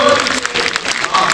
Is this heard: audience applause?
yes